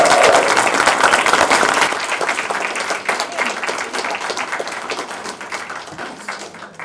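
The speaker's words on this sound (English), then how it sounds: "So can we give him a round of applause?" Crowd applause from a student council hustings audience, dense and steady clapping that stays loud for several seconds before gradually thinning, with some voices mixed in at the start.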